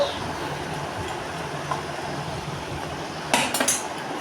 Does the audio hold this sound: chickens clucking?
no